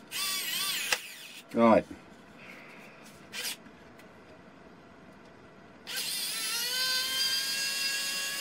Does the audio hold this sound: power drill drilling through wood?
yes